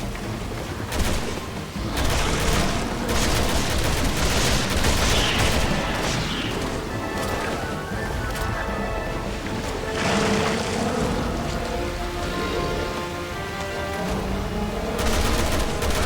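Rifle and automatic gunfire in the co-op video game Resident Evil 6, sustained loud bursts of shots mixed with dense game effects and ambience, no talking.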